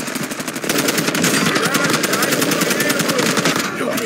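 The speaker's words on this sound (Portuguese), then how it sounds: "Levando tiro aqui." Rapid automatic gunfire in a video game, a loud continuous stream of bursts running almost the whole time, starting after a brief quieter moment and cutting off near the end, with a game voice faintly under it.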